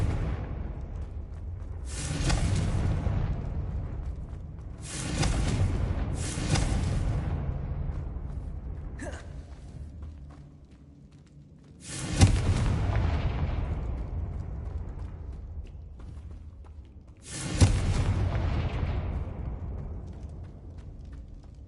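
Confringo spell blasts in Hogwarts Legacy: several deep, booming explosions, each followed by a long rumbling decay, spaced a few seconds apart and loud with no talking.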